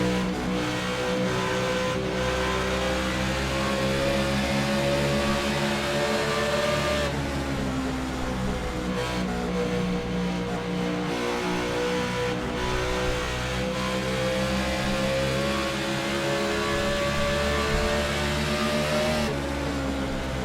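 Race cars roar down a straightaway in a long, continuous engine drone with steady, loud revving and shifting pitch, one car's note giving way to another's.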